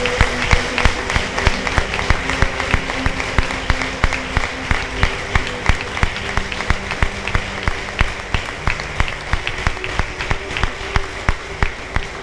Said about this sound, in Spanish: Vamos a dar un aplauso a la palabra del Señor, porque permanece para siempre.